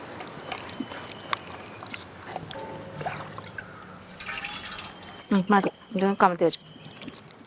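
A little water is poured and splashed to rinse a dish in a Kerala home kitchen, with faint trickles and drips followed by a brief close pour. People talk nearby.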